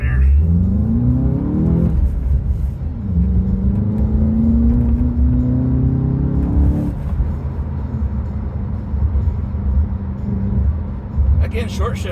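A 2022 Volkswagen GLI with a 2.0-litre turbo engine and a six-speed manual gearbox accelerates hard and is short-shifted. The engine note rises in pitch, drops at each early gear change and climbs again, loud and close, while someone talks over it.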